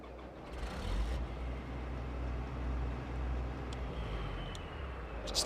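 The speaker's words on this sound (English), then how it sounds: "Not a bad engine startup sound." A vehicle engine in a Farming Simulator 22 mod starts and settles into a steady low rumbling idle, with a few faint higher clicks and beeps over it, no voices.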